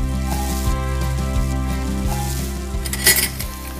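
Onions being tossed with fresh thyme in a frying pan give a faint sizzle under a steady tonal hum, with a few light metallic clinks of pan and utensil, one brighter rattle near the end, and no speech.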